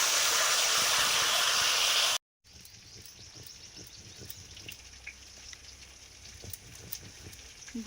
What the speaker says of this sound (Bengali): ট্যাংরা মাছ ভাজা হয়ে গেছে, মাছের মাথা ভাজা হচ্ছে।